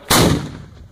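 A single loud close gun or artillery shot in a combat setting, with a sharp blast onset and a rumbling decay that fades over most of a second.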